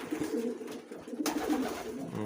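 Racing pigeons in an aviary coo in low, throaty murmurs, close and steady, with a brief rustle partway through.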